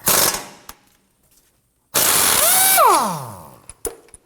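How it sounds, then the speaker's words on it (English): An impact gun with a socket loosens a tie rod nut on a 2003-2014 Volvo XC90: a short, loud rattling burst, a pause, then a longer hammering burst that winds down in pitch, followed by a few light metallic knocks. "We're going to use our socket and impact gun to do that."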